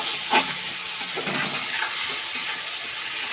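Hilsa fish frying in mustard oil with salt, turmeric and chili powder, a steady broad sizzling hiss that stays close and even, with one brief clink near the start.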